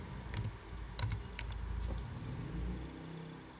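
Several quick bursts of keystrokes on a computer keyboard as a help command is entered in MATLAB, clustered clicks over a low steady background hum.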